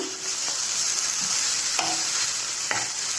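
Grated carrot and vegetables stirred in a frying pan, with a constant close sizzle of frying and a few distinct spatula scrapes and knocks against the pan.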